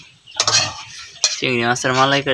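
Metal utensils clatter and scrape in a pot over an outdoor stove while prawn curry cooks, in a few quick clinking bursts with ringing tones, close and fairly loud.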